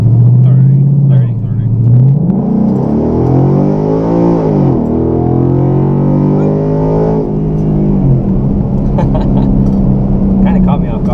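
A 2014 Ford Mustang GT with an automatic transmission accelerates hard, its V8 rising in pitch and then dropping smoothly at each gear change, loud and steady from inside the car with a voice heard now and then.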